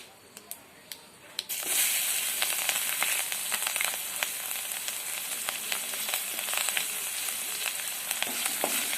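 Peanuts and green chillies hit hot oil after a few quiet clicks, setting off a sudden loud, close sizzle that continues steadily with crackling pops.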